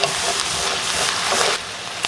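Bagoong shrimp paste sautés loudly in a pan, giving a dense, continuous frying sizzle with light stirring movement that drops slightly in intensity near the end.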